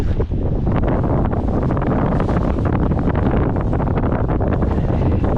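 Strong wind left over from a night gale roars continuously over the microphone on a boat at sea, a dense, loud rushing noise without a break.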